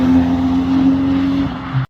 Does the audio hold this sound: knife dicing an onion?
no